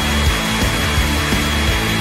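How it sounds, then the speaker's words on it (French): A hair dryer blows in a steady, loud, continuous rush of air with slight rhythmic pulsing, heard on its own with no speech. "Comme avec un sèche-cheveux."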